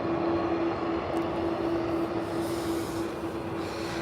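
A jet taking off at Calgary International Airport gives a loud, steady roar of engine noise with a constant whine running through it, held at an even level throughout.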